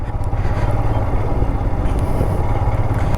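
A loud, close off-road motorcycle engine runs with a rough, throbbing rumble and some rattling clatter, holding steady throughout.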